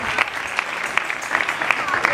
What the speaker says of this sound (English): give God a mighty clap